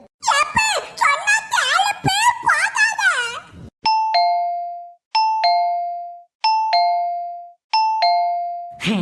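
In a Tamil cartoon, a whining, moaning vocal sound comes first, then a doorbell rings four times in evenly spaced ding-dong chimes.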